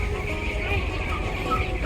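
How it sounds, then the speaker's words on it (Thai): A Silkie chicken clucks at an agricultural fair at Khon Kaen University, giving short soft clucks amid a busy background murmur of voices. "ไก่ซิวกี้นะครับ"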